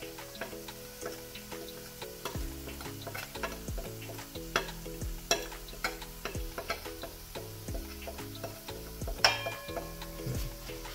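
Spices and pickle powder frying in oil for apple pickle (achar): a quiet, continuous sizzle with light stirring taps and scrapes, set under faint tonal background music.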